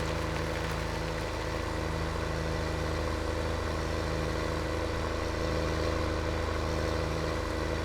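A farm tractor's engine idles and runs steadily in Farming Simulator 17, a constant low, even drone with no change in pace, heard from inside the tinted cab with no talking.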